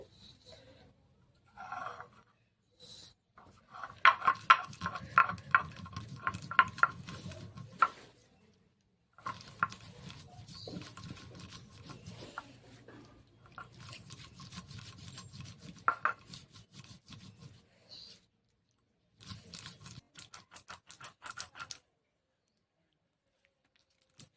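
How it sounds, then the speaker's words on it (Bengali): Rice being ground by hand on a shil-nora, a flat stone slab with a stone roller, gives rhythmic rubbing and scraping strokes in bursts with short pauses, close and moderately loud, with no talking. "চালটা এবার বেটে নেব আমি এই কাজটা শিলনোড়াতেই করছি"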